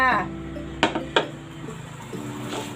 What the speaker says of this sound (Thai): ข้าวเหนียวนึ่งแล้วนะคะ เราจะมาผัดข้าวเหนียวกันค่ะ